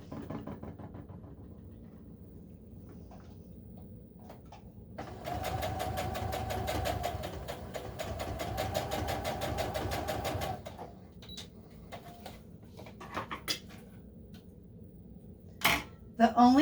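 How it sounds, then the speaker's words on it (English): A home sewing machine runs a steady straight stitch joining pieces of outdated Christmas quilting fabric, a continuous whirring burst lasting about six seconds. Quieter handling noises come before and after, with a sharp clack near the end. "I'm going to sew these together. Just a standard stitch, standard straight stitch, whatever that is on your machine."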